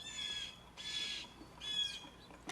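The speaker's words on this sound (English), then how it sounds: "You can hear the blue jays calling in the background." Blue jays call harshly in the background, three bursts of squawking spread over a couple of seconds at moderate distance, with no other voices present.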